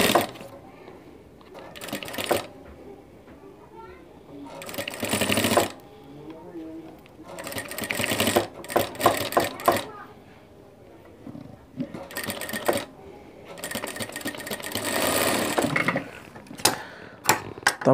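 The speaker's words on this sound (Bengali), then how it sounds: "আপনার ঠিক চিকুন করে সেলাই দিবেন।" A sewing machine runs thin stitching along the piping of a panjabi garment, in repeated close rattling bursts of a few seconds each, with a person talking in the pauses between.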